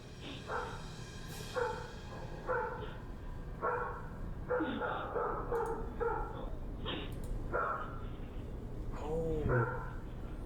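A dog barks in repeated short bursts in doorbell camera footage, heard at moderate distance in regular groups over a steady background, ending in a higher whine-like call.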